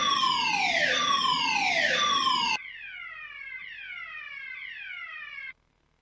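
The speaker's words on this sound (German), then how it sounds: "eigentlich wollte ich ja nur testen, ob die Sirene geht" A German police car siren wails in repeated falling sweeps, loud at first, then continuing more faintly before cutting off abruptly.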